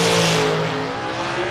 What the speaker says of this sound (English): Dragster over here on the left side.